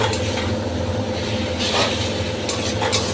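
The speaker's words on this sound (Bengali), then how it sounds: "এর সঙ্গে আমি একটু নাড়িয়ে চাড়িয়ে এটা ভেজে দেব" A fried katla fish head is stirred into spice paste in a pan. There is a continuous close sizzle over a steady low hum, with occasional scraping of the spoon.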